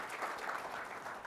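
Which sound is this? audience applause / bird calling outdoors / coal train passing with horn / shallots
audience applause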